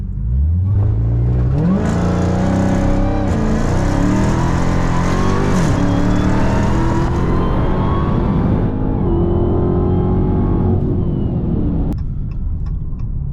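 A 2021 Dodge Charger Hellcat Redeye launches into a hard full-throttle pull, its loud supercharged engine climbing steadily through the revs with a gear change along the way before the throttle cuts near the end; no one speaks.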